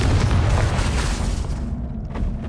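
A Confringo blasting spell explodes in Hogwarts Legacy, a deep rumbling boom that fills the low end and slowly decays.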